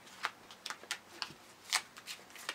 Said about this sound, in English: I'm gonna do a few more shuffles